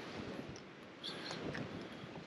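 Strong wind blows along the seaside at Costa Teguise, Lanzarote, as a steady, fairly faint rush that buffets the microphone throughout, with no voices.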